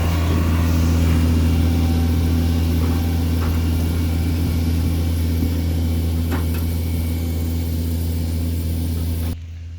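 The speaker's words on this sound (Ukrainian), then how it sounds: "Ось такі тут е, тракторці працюють." A small tractor engine running on a farm, a steady loud low hum and drone holding constant for nearly ten seconds before cutting off abruptly at the end, no talk.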